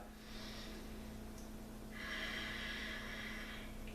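Two slow, airy breaths during a yoga flow session, a shorter exhale followed by a longer, fuller one, close and clear against a quiet humming room.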